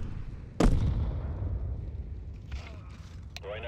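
A grenade explosion in Counter-Strike 2 bursts out sharply and loudly with a single blast, then a rumbling tail and a few faint clicks and shuffles of game action fade in behind it.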